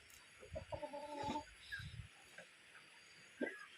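Chickens cluck in short bursts over a quiet outdoor background, with a few scattered clucks and a sharper call near the end.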